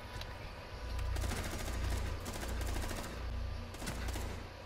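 Automatic gunfire in the tactical shooter Rainbow Six Siege, bursts of rapid shots in several volleys with brief pauses between them, fairly loud over a low background rumble.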